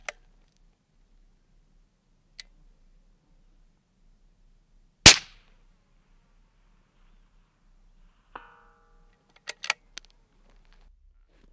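A single sharp rifle shot rings out at a long-range target, loud and abrupt against near silence, followed later by faint clicks and small metallic rattles.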